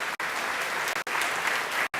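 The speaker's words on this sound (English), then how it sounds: "I think that deserves a round of applause," Conference audience applauding in a hall: a steady wash of many hands clapping at moderate distance, broken by a few very brief dropouts, with no voices over it.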